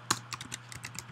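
Keys clack on a computer keyboard in a short burst of uneven taps, close and moderately loud, with no talking.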